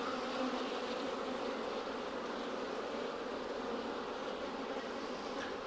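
Honeybees inside an opened hive, a dense, even drone of many wings held steady and close throughout, with no voices.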